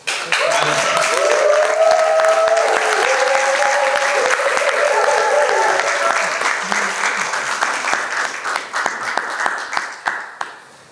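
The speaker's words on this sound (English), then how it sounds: "I want you to clap for him and give him a massive welcome" A conference audience breaks into loud, sustained applause for a speaker coming forward. The dense clapping holds steady for several seconds, then thins and fades toward the end.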